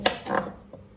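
Knife chopping peeled vegetables on a board while preparing homemade chicken soup, two or three quick, close cutting knocks within a second, fairly quiet, no talking.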